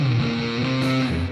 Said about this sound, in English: brings this DSOD in and it's on the grey face, which is a fuzz face clone